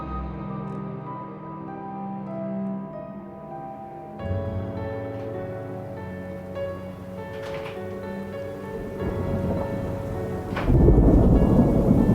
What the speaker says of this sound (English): It looks like it's gonna storm soon